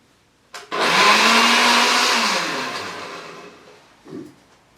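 A kitchen blender whirls a banana smoothie in one loud, close burst of about three seconds that starts abruptly and slowly fades as the motor runs, followed by a short final pulse.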